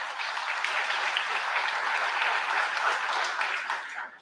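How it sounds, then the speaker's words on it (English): A signing day audience applauds a student, a dense, even burst of clapping from many hands that holds steady for about four seconds and then trails off quickly. "give Garrett a round of applause as well"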